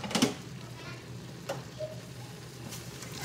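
Ingredients for homemade pancit sizzle and fry in a small pan, with a steady soft hiss and a few sharper stirring scrapes near the start.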